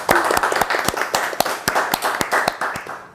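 Steady, rhythmic hand clapping from an audience cheering on the daughter of a guest at a live poetry show, with sharp claps repeating every fraction of a second for about three seconds and no talk over it.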